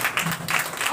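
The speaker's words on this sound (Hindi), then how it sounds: "जोरदार ताली बजाएं।" A church congregation claps loudly, a brief dense burst of many hands applauding together.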